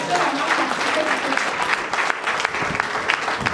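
A congregation applauds loudly and steadily during a church sermon, with dense, continuous clapping and some crowd voices mixed in.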